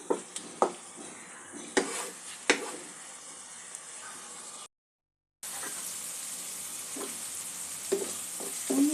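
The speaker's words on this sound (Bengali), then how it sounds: "এই মশলাটাও যোগ করে দেবো। মশলাটা একটু ভালো করে কষে নেব।" Ground coriander and cumin masala for katla fish rezala fries in oil with a steady hiss, punctuated by several sharp spatula knocks against the pan. A brief silent gap follows, then the sizzle resumes with more stirring clicks.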